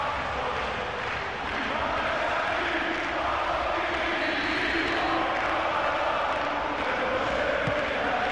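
A stadium crowd roars in Pro Evolution Soccer 2013 during a PAOK versus AEK football match, a steady, dense wash of cheering that is loud and continuous throughout.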